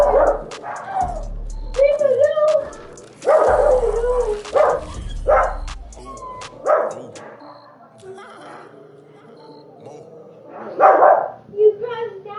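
A dog barks and yips in sharp, irregular bursts, with whimpering between, up close indoors while someone talks around the noises.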